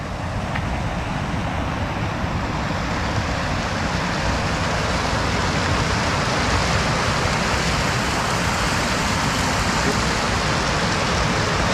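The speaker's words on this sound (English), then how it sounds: "we're gonna look at this waterfall over here. It's actually quite loud." Loud waterfall in the woods along an old railroad trail at night, a dense, steady roar of rushing water filling the whole stretch with no talk.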